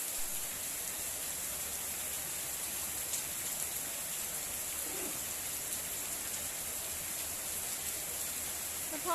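Heavy rain pours during a thunderstorm at a house, a steady dense hiss of rainfall holding the whole stretch without breaks, fairly loud and close, with no voices and no clear thunder.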